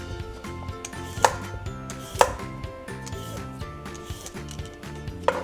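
Cucumber being chopped into circles for a salad, steady close knife strikes on a board in an even rhythm, with a few sharper clacks over a faint background of music.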